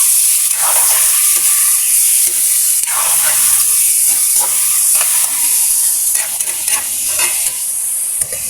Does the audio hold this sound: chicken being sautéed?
yes